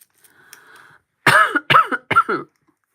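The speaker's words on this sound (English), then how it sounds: "Sorry about the coughing, guys." Three loud, harsh coughs in quick succession, close to the microphone, after a moment of faint background sound.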